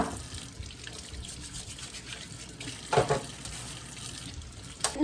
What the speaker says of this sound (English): what I want to do is I want to wash them thoroughly on the cold water